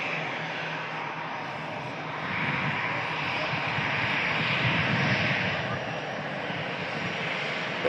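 An aircraft taxiing out at an airport, a steady broadband engine roar heard from a distance that swells slightly midway, with a voice talking softly beneath it.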